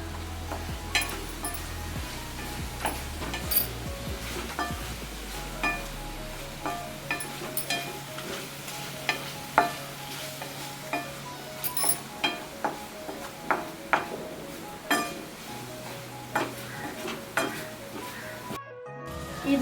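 Crushed chili sautés in a pan with a soft, steady sizzle. A spoon or spatula clinks and scrapes against the pan in regular strokes while it is stirred, and no voice is heard.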